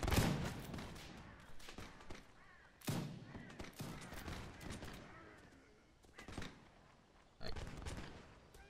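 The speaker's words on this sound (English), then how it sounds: "I think they're shooting at me, you know." Musket volleys crack and boom in a Mount & Blade Napoleonic battle, several loud bursts of gunfire rolling out at irregular intervals with dense echoing rumble between shots.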